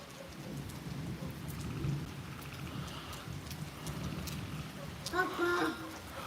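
Steady rain patters and hisses throughout, with a brief rumble and a few sharper tones near the end.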